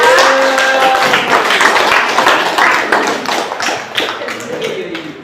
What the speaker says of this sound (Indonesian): kita beri aplaus kepada Nadila